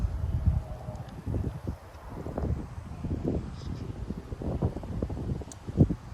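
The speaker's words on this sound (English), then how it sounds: "strong wind gusts all at the same time" Strong wind gusts buffeting a microphone outdoors at night in Frisco, Texas, a low rumbling roar that swells and fades in uneven bursts, with faint rustling in the background.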